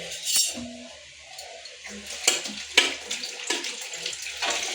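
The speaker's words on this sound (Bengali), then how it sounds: "দেখো মিক্সিটা ধুচ্ছি মিক্সিটা লাগবে" Tap water runs and splashes while a mixer jar is rinsed in a kitchen sink, a steady hiss broken by clinks and knocks from the jar.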